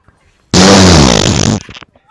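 A loud, sustained buzzing flatulent blast, likely a voice imitating a fart, lasts about a second, then trails off into a few faint sputters.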